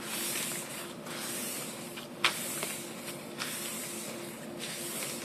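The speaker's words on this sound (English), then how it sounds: "let me spray in this section over here so you can see more of the dimensions" Aerosol spray hissing steadily onto a sheet of building plan paper to make it transparent, a continuous close airy hiss with brief sharper bursts, no voices.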